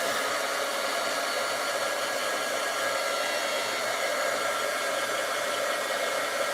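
A hair dryer blows steadily and loudly at close range, drying a napkin-decoupaged Dollar Tree butterfly craft frame. The even, unbroken whoosh runs the whole time with no talking.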